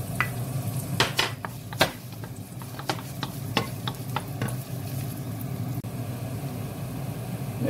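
Garlic frying in a pan with pork ears: a steady close sizzle under sharp clinks and scrapes of stirring, with busy clattering early on that thins out later.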